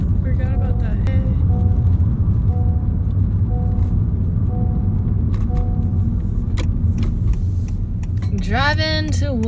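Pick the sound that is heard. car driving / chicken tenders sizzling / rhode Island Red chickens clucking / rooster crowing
car driving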